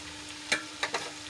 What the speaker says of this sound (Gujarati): હવે બધું સરસ રીતે મિક્સ કરી લઈશું